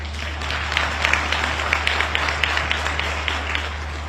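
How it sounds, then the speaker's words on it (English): Conference audience at an African National Congress gathering claps steadily for health workers, a spread of scattered hand claps with distinct sharp taps over a constant low hum, moderately loud and without talk. "I think we ought to applaud them better than that."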